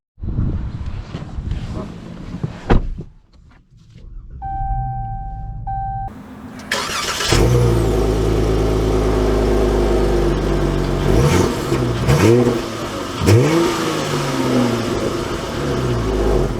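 A 2022 Dodge Charger GT AWD engine cranks and fires after a short quiet pause, then the car pulls away and accelerates through several gear changes, with steady road and wind noise building underneath at close range.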